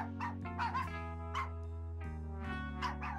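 Several dogs in a Barbie pet cartoon yap and bark in short bright bursts over a steady musical background, with a few higher yips scattered through.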